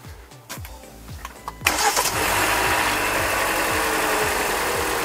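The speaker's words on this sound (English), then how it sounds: "Okay, start your engine." A car engine cranks during a battery cranking test, with several rhythmic starter turns that build until the engine catches about halfway through and settles into a steady, loud idle, with no talking.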